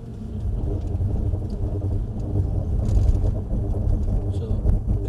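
A Mercedes C63 AMG slows under hard braking from 30 mph, a low rumbling road and engine drone that swells and fades inside the cabin, with voices talking over it.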